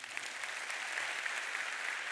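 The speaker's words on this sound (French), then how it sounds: "Je vous propose quelques applaudissements pour Pascal Huon" Brief, fairly faint applause from an audience welcoming guest Pascal Huon, a soft continuous wash of clapping lasting a couple of seconds.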